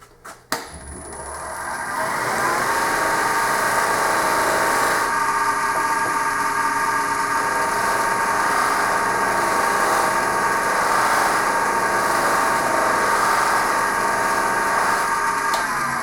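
Buffing wheel spinning up on a wood finishing buff kit for the white diamond compound: a steady, loud motor whine with a smooth continuous hum that holds evenly after a quick start and a short clunk, with no talk.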